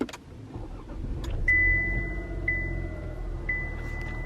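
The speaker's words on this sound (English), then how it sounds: "now I'm actually gonna turn the car on just so I can show you guys everything" A car being switched on, a rumble of the engine and electrical hum with a repeating chime sounding three times at a steady pace, close and moderately loud.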